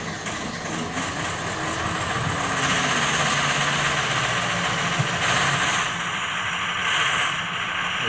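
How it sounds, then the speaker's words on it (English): A heavy 6.0 Powerstroke diesel truck engine rumbles at idle after its fuel system is primed, close and steady, with a brief surge in revving partway through. "As you can see, truck fired up."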